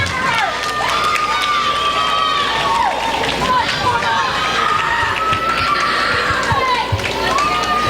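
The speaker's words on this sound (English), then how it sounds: "join me in a huge applause and cheer for both of our teams here tonight" Roller derby crowd at a championship bout cheering, shouting and applauding loudly for both teams, a dense sustained roar with whistles and high yells throughout, an announcer's voice faintly mixed in.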